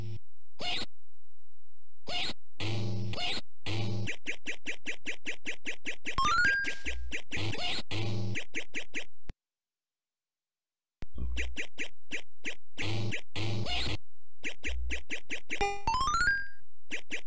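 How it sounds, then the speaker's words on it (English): Bursts of chaotic sound effects from the arcade game Crazy Kong, with rising springy boing jump tones for Mario, a brief silence midway, then more clattering effects and another quick rising jump sound. "I don't remember any Mario game in the history of time ever having Mario sound like this when he jumps."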